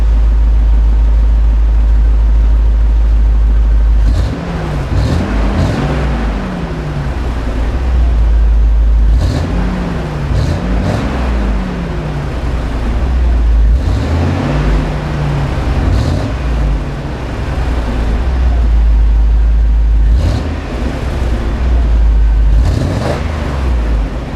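An LS-swapped Chevrolet Monte Carlo V8 running through a cheap, quiet muffler: a deep, loud idle rumble rises in about four rev blips, with a faint ticking from a leaky exhaust flange underneath.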